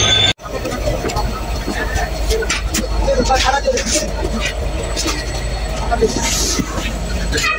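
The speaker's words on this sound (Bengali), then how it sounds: "এখন আমি ট্রেনে উঠবো" A train at a station as a passenger boards, its rumble and rail noise loud and continuous throughout, with wheel squeal and clanks, and a voice talking over it.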